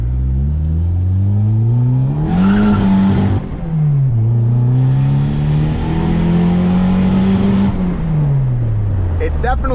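Mazda Miata engine revving hard during a launch attempt, a loud close buzzy drone that climbs and falls through gears, heard from inside the car.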